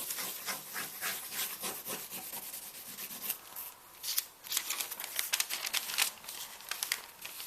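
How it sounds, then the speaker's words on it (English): A fingernail scribbles over a freshly printed paint shape on paper, producing soft, close scratchy rubs and crinkly scrapes in quick irregular bursts, quiet and unaccompanied by speech. "take your fingernail and do a little scribbling"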